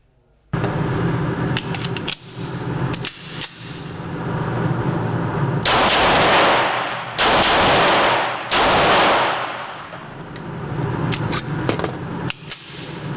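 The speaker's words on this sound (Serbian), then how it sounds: "Izuzetno prijatan pištoljčić za pucanje." A Browning Hi-Power 9 mm pistol, a Second World War era example with Wehrmacht markings, fires a string of sharp, loud shots: several single cracks followed by bursts of closely spaced rapid shots with echoing tails.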